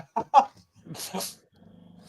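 A dog in a home growls and grumbles nearby, with a few short vocal bursts early on, then a low, pulsing rumble toward the end.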